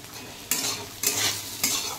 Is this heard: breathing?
no